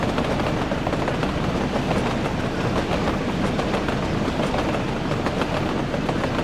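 A train runs on the railroad in Workers & Resources: Soviet Republic, a steady, close rumble with rapid clickety-clack from the wheels that holds at an even loudness throughout, with no voices.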